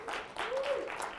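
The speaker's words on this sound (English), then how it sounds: "Say something favorable so people clap." An audience at a school event bursts into applause, a short, dense wash of clapping hands heard up close and fairly steady throughout.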